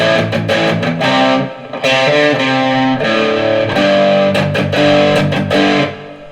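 An electric guitar plays through a Marshall JCM 800 pedal on its distortion channel, giving loud, sustained, creamy overdriven chords and riffs with brief gaps, alone without talk.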